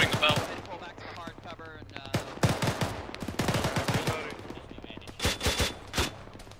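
Autocannon fire in a combat video game, loud rapid bursts of repeated shots with pauses between volleys, some distant and some close, mixed with a faint voice and background battle noise.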